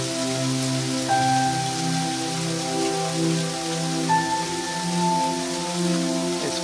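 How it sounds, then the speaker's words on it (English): Heavy sleet falls during a February 2021 winter storm in Maryland, USA, with a constant dense hiss, accompanied by steady tonal hum layers throughout. "But right now it's heavy sleet."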